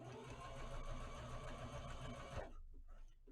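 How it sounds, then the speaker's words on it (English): A sewing machine stitches a fabric fashion mask in one continuous close whirring run that stops abruptly near the end, leaving faint room noise. "then we just continue sewing like that"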